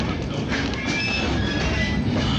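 Steady rumble and rattle inside a passenger car of an Oil Creek and Titusville Railroad train near Petroleum Center, with continuous rolling noise, faint wheel squeal overtones and a steady loud level throughout.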